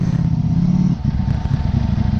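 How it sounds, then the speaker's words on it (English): A sport motorcycle engine revs on the throttle close by, a loud, rough, pulsing roar that rises briefly. "when I throttle, it sounds like 2 more cylinders are getting activated"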